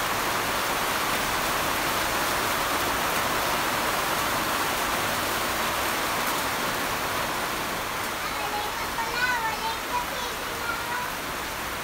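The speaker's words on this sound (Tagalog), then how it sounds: "Yan, lakas na ng ulan." Steady, dense hiss of heavy rain pouring down, constant and enveloping, with faint voices or chirps briefly rising near the end.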